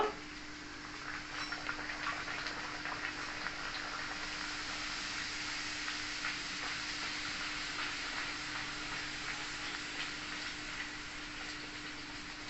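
Urad dal kachori fry in hot oil, a soft, steady bubbling hiss that continues evenly without a break at low volume, with no voices over it.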